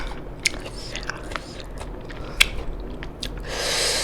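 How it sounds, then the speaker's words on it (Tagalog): Crunchy sour green mango is bitten and chewed up close, with a few sharp crisp snaps over soft steady chewing and a brief rustle near the end. "And I like my mango because so crunchy."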